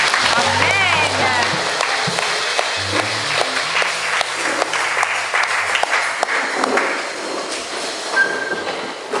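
Church congregation applauding in acclamation of Jesus during a French-language service, dense sustained clapping filling the room over a steady roar, with voices and music tones mingling underneath throughout.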